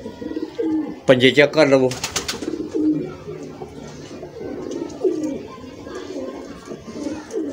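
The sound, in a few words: Lahori pigeons cooing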